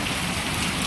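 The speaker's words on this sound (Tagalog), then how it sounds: "ang lakas pa rin sobra ng ulan" Heavy rain pours steadily at a market in Nasugbu, Batangas, a dense continuous hiss of drops drumming on surfaces with no voices.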